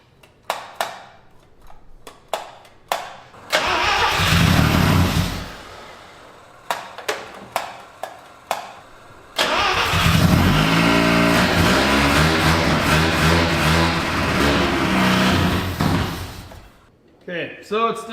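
A Mazda rotary pickup fitted with a Holley carb and no throttle cable cranks and fires up. Loud engine roars come in two long bursts, separated by clicks and clunks and followed by a voice speaking.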